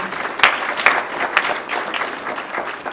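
Audience applause for Councilman Mike DeSorbo at a mayor's employee recognition awards ceremony, a steady patter of clapping with a few sharper bursts throughout.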